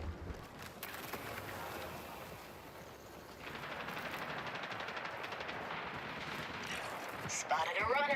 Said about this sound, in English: I heard shots in front.